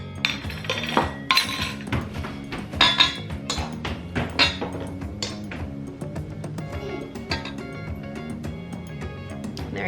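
Glass 6-ounce mason jars clink and knock together while being filled with whipped natural body butter, with repeated bright taps and clatters over continuous background music.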